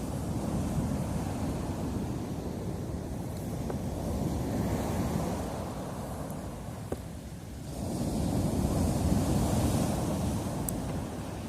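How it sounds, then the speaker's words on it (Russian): Loud, continuous roar of sea surf with surges of crashing waves on the Turkish coast, mixed with wind buffeting the microphone. "Это море такое шумное, волны прям шуруют."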